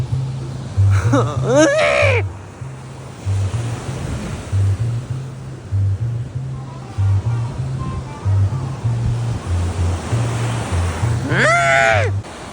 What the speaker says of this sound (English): the ocean has such big waves over there